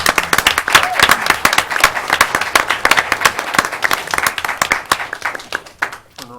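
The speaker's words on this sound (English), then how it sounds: "Let's give these students and their families a round of applause for their dedication and accomplishments." Applause for students and their families at a county school board meeting, dense sharp hand claps from a room of people, loud and sustained before thinning out at the end.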